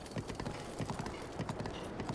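Horse hooves clip-clop steadily in Zelda Breath of the Wild, a continuous rhythmic trot of close, dull thuds over a dense game soundscape, with no one speaking.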